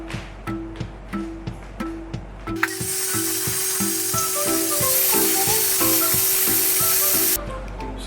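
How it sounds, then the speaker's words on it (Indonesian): An electric hand mixer whirs steadily through a papaya soap mixture for about five seconds, loud and close, with short rhythmic clattering and knocking before it starts and after it stops. "Tinggal kita aduk pakai mixer biar cepat."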